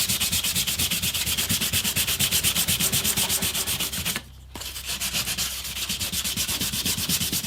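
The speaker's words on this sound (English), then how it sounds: "Now I've got 600 grit just stuck to this matting." A guitar body is hand sanded with 600 grit paper stuck to rubber matting, a loud, rhythmic back-and-forth rasping in quick, even strokes, with one brief pause before the strokes resume.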